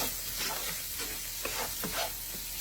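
A spoon stirs paprika and other spices in a pan while a faint sizzle runs underneath, with soft scraping sounds and no voices.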